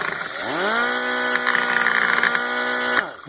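A high-speed rotary tool spins up to over 20,000 RPM with a rising whine, holds a loud steady high pitch with buzzy grinding, then winds down at the end, used in a fiberglass and epoxy repair of a Ford radiator.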